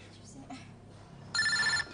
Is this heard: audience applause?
no